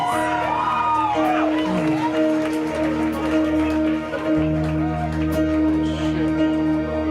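A wedding reception crowd applauds and whoops as the groom and his mother step onto the dance floor; steady clapping and shouts fill the room while music begins underneath and voices carry over it.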